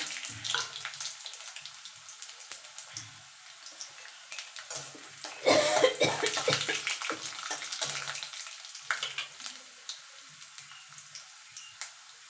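Garlic and nigella seeds frying in hot oil in a pan, where dried red chillies were just fried, for a prawn paste with bottle gourd leaves; a steady close crackle and sizzle swells midway, with no talk.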